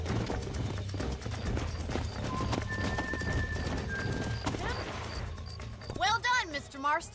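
Horses in the Red Dead Redemption video game, with rhythmic hoof clip-clop running under game music and speech, a brief high tone in the middle, then a loud neighing whinny near the end.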